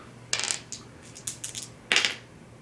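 Dice for the Star Wars X-Wing miniatures game rattle and clatter onto a table in several sharp, bright bursts. The rolls are close and crisp, with a final louder tumble, and no talk is heard.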